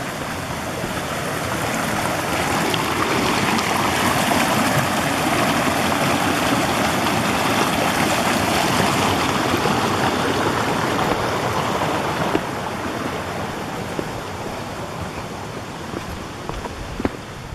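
A mountain creek flows over rocks at a trail crossing near Capitol Creek in the White River National Forest, a close, loud, continuous rushing of water with no speech.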